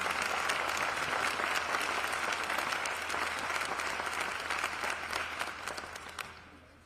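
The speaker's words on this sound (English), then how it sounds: "give all of our sponsors and councilmen a well-deserved round of applause" A crowd at the 2025 Warner Robins State of the City address claps steadily and loudly for several seconds before the applause gradually fades away.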